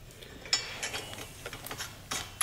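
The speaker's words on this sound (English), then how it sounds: "Next, we will tighten the front 4 bolts on the dump brace using a 13mm wrench." A 13mm wrench ratchets while tightening bolts on a dump brace, producing short bursts of quick mechanical clicks with brief pauses between them, close and fairly quiet.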